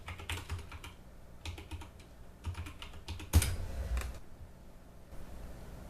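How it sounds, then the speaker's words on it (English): Typing on a computer keyboard, close and fairly quiet: bursts of rapid key clicks with short pauses and one heavier keystroke near the middle, no voices. "So you want to type in that default gateway."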